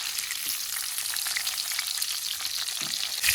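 Sliced onions fry in hot oil for a taki fish curry, giving a steady close crackling sizzle with a few soft clicks and no voices.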